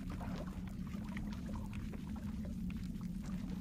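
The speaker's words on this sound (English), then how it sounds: "I hear water." Constant running water fills a cave in Fallout New Vegas, a steady rushing, pouring wash that holds at one level throughout, moderately loud and without any speech.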